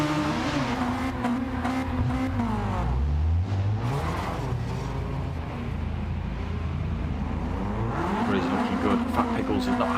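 Classic DTM touring cars at Nürburgring Nordschleife, including a Cosworth-engined car, revving hard at full throttle in a racing game, with loud engine notes climbing and dropping through gear changes and someone talking over them.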